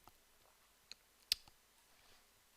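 Two faint, sharp computer mouse clicks while selecting components in Maya software, the second slightly louder, separated by about half a second of near silence.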